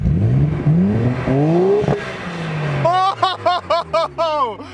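A 1994 Nissan R32 GTR on semi-slick tyres accelerates hard on a wet road, its engine note climbing through several gears with short breaks between shifts, loud and close from inside the car.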